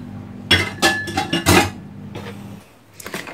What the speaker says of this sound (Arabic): صافي كنخلط كاع هاد المكونات مزيان.